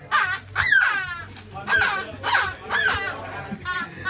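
A bird caws repeatedly in short, harsh bursts, about five calls spaced roughly half a second apart, loud and close, with a person's voice mixed in.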